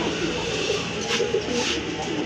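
Domestic pigeons in a seller's loft, the male bird among them, give soft low cooing throughout under steady background noise, with a few brighter bird calls rising near the middle.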